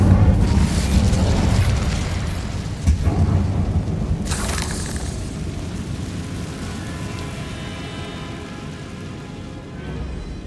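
A fire spell, Incendio, cast in Hogwarts Legacy, bursting as a loud whooshing blast at the start, then a sharp crackling flare a few seconds in, trailing off into a long rumbling roar.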